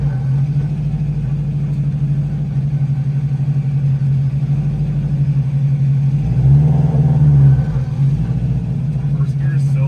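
A Subaru WRX engine rumbles steadily and close, a low throaty drone with one brief swell in revs partway through before settling again.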